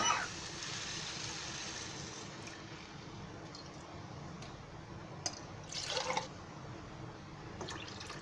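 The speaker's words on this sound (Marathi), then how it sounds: "आता त्याच्यामध्ये आहे ना मी पाणी ओतते. आपल्याला भाताला पाणी लागतो ना तेवढंच ओतायचं." Water poured into a pot of sprouted moth bean rice, a quiet steady liquid hiss with a few brief splashy bursts, faint and close.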